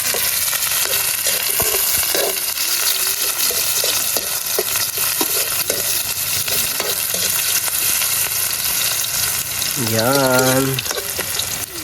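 Vegetables and ingredients stir-fried in hot cooking oil in a pan, a steady loud sizzle with repeated scraping stirs, while a voice speaks briefly over it.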